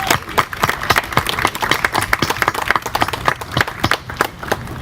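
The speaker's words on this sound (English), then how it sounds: "Let's give them another round of applause." Clapping from an audience at an elementary school groundbreaking ceremony after a children's honors choir performance, a brisk, sparse patter of individual hand claps close by and alone.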